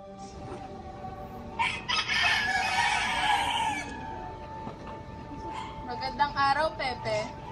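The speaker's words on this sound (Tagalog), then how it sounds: "May huni ng ibon," A rooster crows once in a drawn-out call, moderately loud, with birds calling and a person talking around it.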